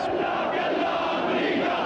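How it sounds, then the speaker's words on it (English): A crowd rallies in Baghdad, calling for American troops to leave Iraq: a dense, continuous roar of many chanting voices, loud and steady throughout. "a crowd rallying in Baghdad calling for American troops to leave Iraq"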